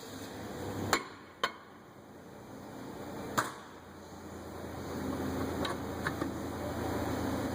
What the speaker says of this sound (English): Rotor can be stuck on there, a little rust, so we can just tap it off here on the back side.